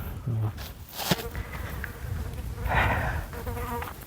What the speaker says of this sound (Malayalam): ഈച്ച